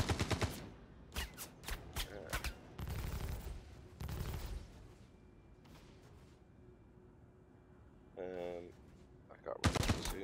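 Bursts of gunfire hit the player's ship in the Star Citizen space game, loud rapid volleys in clusters with pauses between them, later joined by a warning tone and more shots.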